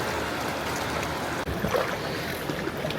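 Water of hot springs beside a river in the mountains of Peru rushes in a steady, dense broadband wash, continuous and fairly loud, with a brief dip and small splashes partway through.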